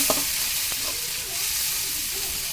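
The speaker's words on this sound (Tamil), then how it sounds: "உப்பு போட்டால் சீக்கிரமாக வதங்கும் தக்காளி" Tomatoes sautéing with salt in a pan, a soft continuous sizzle with a couple of brief stirring scrapes near the start, close and steady with no talk.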